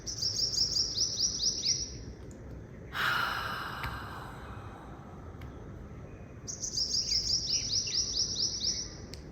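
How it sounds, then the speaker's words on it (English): A bird sings in the background in rapid chirping trills, repeated in two clear phrases at the start and end, faint and a little distant over soft steady ambient noise, with a breathy sigh in between. "Maybe listen to that bird in my background."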